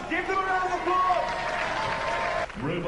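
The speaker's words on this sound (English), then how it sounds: "Ladies and gentlemen, give them a round of applause!" Studio audience applause at a Robot Wars robot-combat show, a loud steady wash of clapping and cheering that fills the moment with a brief dip near the end.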